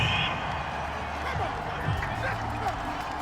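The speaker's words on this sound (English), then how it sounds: "Some boos coming down right now from this home crowd after that call" A home crowd in a Madden NFL game between the Tennessee Titans and Miami Dolphins gives a sustained murmuring roar of boos after a pass interference call, with talk over the top.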